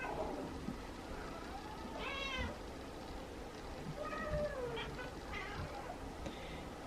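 Hungry feral cats meow several times at night, each call rising and falling, fairly faint against a steady background hiss.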